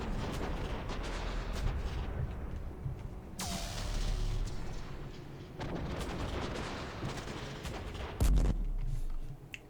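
Heavy weapons fire and explosions in the Mass Effect 3 video game, a constant loud roar of battle with rumbling blasts, a high whooshing streak midway and a deep, heavy boom near the end.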